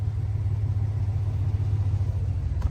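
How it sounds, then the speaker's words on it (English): A steady, deep engine rumble from a nearby Dodge Hellcat Redeye or Scat Pack Widebody idling with open exhaust, continuous and loud without any talking. "I gotta open up my exhaust"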